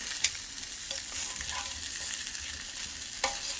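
Dried fish fries in a modest amount of hot oil, giving a steady close sizzle with a couple of sharp pops and utensil taps, no voices.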